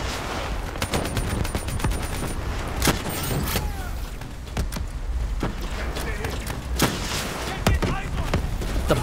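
Gunfire in Call of Duty Black Ops III: repeated sharp shots and rapid automatic bursts with occasional heavier booms, steady over a busy game soundscape while a person talks throughout.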